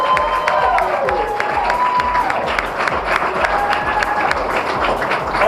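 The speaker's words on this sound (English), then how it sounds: "Let's hear a round of applause." Steady audience applause fills a scholarship awards ceremony at a Dominican Day Parade event, dense clapping mixed with light cheering held at an even level throughout.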